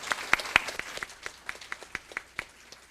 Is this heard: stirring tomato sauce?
no